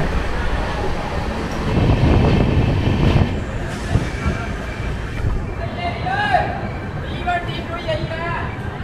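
The Shantiniketan Express passenger train rumbles steadily along the Howrah–Bolpur line near Bardhaman, with a dense continuous roar of wheels and carriage noise, then fainter squeal-like tones toward the end.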